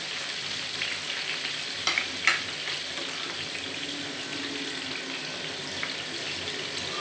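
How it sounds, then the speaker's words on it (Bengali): Boiled jackfruit pieces frying in a pan, a steady hissing sizzle throughout with a couple of brief scraping clatters of a utensil near the middle, close and without talk. "এঁচোড়গুলো সেদ্ধ করাই আছে, খালি এগুলো আমি ভেজে নিচ্ছি।"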